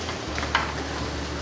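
Vegetable filling for tofu skin rolls, including carrot, is stir-fried in oil in a pan, giving a steady close sizzle with quick scraping stirs and a couple of sharper clacks.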